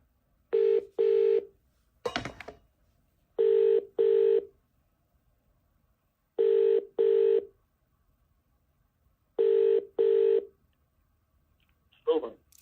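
A phone line during a radio call-in show gives paired electronic ringback tones that repeat at steady intervals, broken by a brief burst of clicks and noise.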